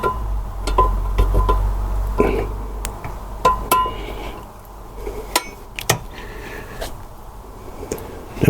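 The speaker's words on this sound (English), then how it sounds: "So I'm going to use the ratchet." A ratchet loosening the cover screws on a Carvin Jacuzzi pool pump motor, giving scattered sharp metallic clicks and clinks at close range over a low hum that fades after the first few seconds.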